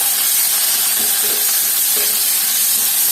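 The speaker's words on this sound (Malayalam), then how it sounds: "സവാളയൊക്കെ നമ്മൾ നോർമലി വഴറ്റിയെടുക്കണ പോലെ ഒന്ന് വഴറ്റിയെടുക്കണം" Two medium onions sautéing in a pan for a Kerala mutton intestine stir-fry, giving a steady broadband sizzle with soft stirring scrapes, close and continuous with no talking.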